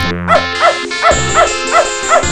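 A cartoonish dog barks repeatedly in a steady rhythm, roughly six yips over bright synthesized music in the game Beneath a Steel Sky.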